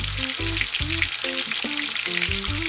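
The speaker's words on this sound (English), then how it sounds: "you stay tuned while I cook my turkey wings" Turkey wings sizzle and fry steadily in a hot pan while being browned for Jamaican stewed turkey wings, with a continuous close crackle and occasional stirring clinks, no talking.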